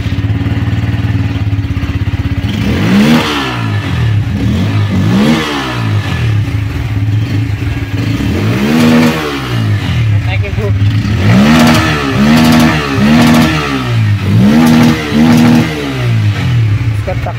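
A motorcycle engine idles loudly and close, then revs repeatedly in rising and falling bursts, several in quick succession near the end, while someone talks over it.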